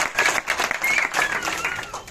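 An audience at an RCM Royalty Achievers group celebration in Faridabad breaks into steady clapping for two seconds. Bright, dense hand claps carry a few raised voices mixed in.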